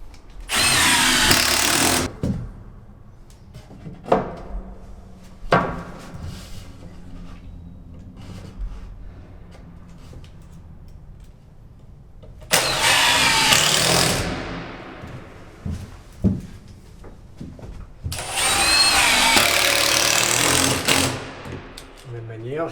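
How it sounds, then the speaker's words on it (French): A power screwdriver drives screws into the wooden frame of a garden shed door, in three loud whirring bursts separated by quieter stretches of handling knocks and clatter, with no talk. "De la même manière, je mets une vis également au centre."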